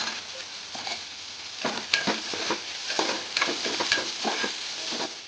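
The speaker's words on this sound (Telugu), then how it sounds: "బీరకాయ ముక్కల్ని అన్నిటిని వేసేసి ఇలా బాగా కలుపుకోవాలి" Ridge gourd pieces tossed into a pan and stirred as they fry, giving a close sizzle with irregular scraping and clattering stir strokes over a few seconds, no voices.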